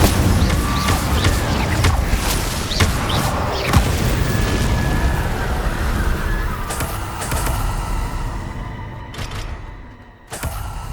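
Incendio fire spell from Hogwarts Legacy, loud rushing bursts and booming whooshes over a busy game soundscape, with sharp pops and crackles scattered throughout and a brief dip near the end.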